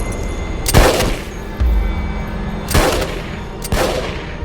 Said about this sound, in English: Erica stared at them coldly, quietly pulled out her K9, and the next sound was a life being cut short.